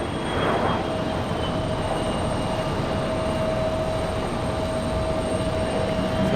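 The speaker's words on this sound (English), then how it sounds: "Looks like all the gear is down." Cessna Citation business jet on landing approach with its gear down, a steady, fairly loud engine roar and whine holding evenly throughout, with no talking.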